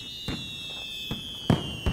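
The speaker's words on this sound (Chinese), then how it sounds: "在这个烟花下。" Fireworks burst at a romantic moment in a Chinese drama, four separate sharp pops spaced across two seconds, the last two louder, over a steady high tonal background with no talk.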